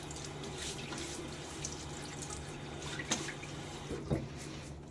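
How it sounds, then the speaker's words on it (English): Running water splashes steadily at a bathroom sink while a face is rinsed after a wet shave, with a couple of louder splashes and drips near the end. "All right, so rinse my face."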